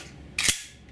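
A single sharp, close pop from a Daisy Avanti Champion 499 BB gun, a short, crisp crack that dies away quickly in a quiet space.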